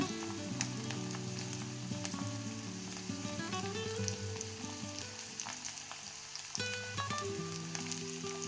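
Asafoetida powder dropped into a hot kadai with oil, crackling and sizzling steadily for several seconds at close range, with no voices.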